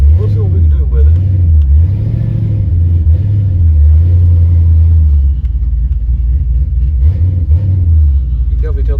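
A Chevrolet C10 truck engine with a stock torque converter revving close and loud, its pitch rising and falling in repeated swells, with a person talking over it.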